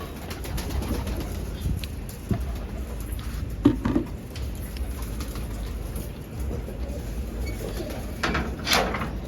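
Pigeons shuffle and coo inside a coop amid a steady low ambient wash, with a few brief louder knocks and flutters scattered through.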